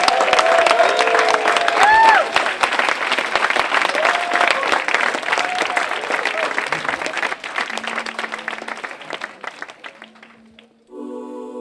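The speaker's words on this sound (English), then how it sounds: "give him again a warm applause for David Wolfe" A seminar crowd applauds warmly for David Wolfe with some cheering mixed in. The clapping is loud and sustained for several seconds, then tapers off before a short tonal sound at the end.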